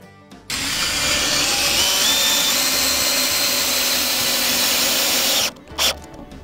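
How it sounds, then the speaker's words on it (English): A power drill whirs loudly and continuously for about five seconds, then cuts off with a brief rattle. "this little drill you got me for Christmas is really good"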